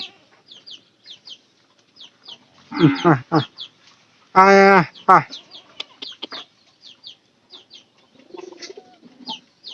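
Chickens cluck in short bursts near and far, with one loud drawn-out squawk in the middle and sparse quieter clucks around it.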